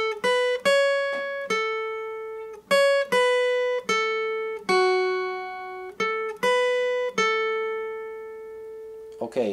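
Acoustic guitar picking the intro riff of a song, a quick melodic run of bright, ringing plucked notes in a repeating rhythmic pattern, played close and alone.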